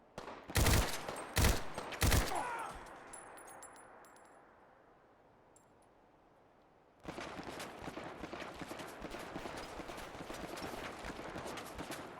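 In the Fallout 4 video game, super mutants open fire, giving three sharp, loud gunshots in quick succession that ring out and fade, followed later by a steady rush of noisy game ambience.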